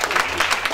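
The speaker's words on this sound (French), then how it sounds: "Est-ce qu'on peut acclamer Jésus-Christ?" A congregation at a spiritual retreat service breaks into applause and cheering, a brief burst of dense clapping with a few voices mixed in.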